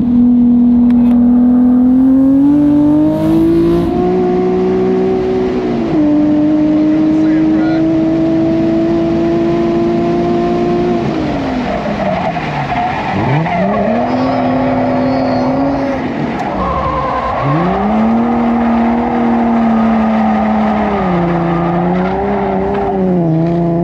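A stock car drifting at over 120 mph, its engine holding a loud, steady high rev with repeated sweeping dips and surges as the throttle is worked through slides, tire squeal mixed in throughout.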